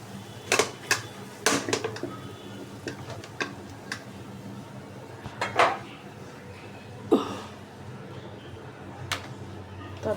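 Leafy greens dropped into a kadai with several sharp metallic clinks and knocks of cookware, scattered through the clip over a faint room background with no talking.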